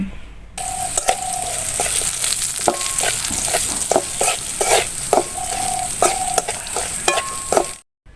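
Drumstick leaves stir-fried with onion and chili in a pan, steady loud sizzling broken by repeated rhythmic scrapes and clanks of a spatula against the pan, close and with no talk.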